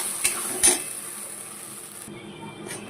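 Spice paste is stirred into mashed pointed gourd in a pan: two sharp utensil knocks against the pan at the start, then a steady soft sizzle and scraping that continues to the end.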